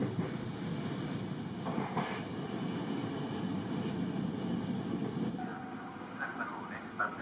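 An Intercity Notte sleeper train rumbles steadily along the rails on the Milan to Sicily run, a continuous low roar heard from onboard with faint rattles and occasional creaks.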